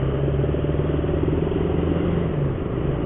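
Hero Xtreme 160R BS6 motorcycle pulling in first gear, a steady close engine drone with a throbbing exhaust beat and wind rush, held at an even pitch throughout.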